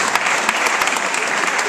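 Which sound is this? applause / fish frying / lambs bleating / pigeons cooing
applause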